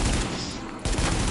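Gunfire in The Division video game, with a dense, loud burst of rapid shots that breaks off briefly and then resumes.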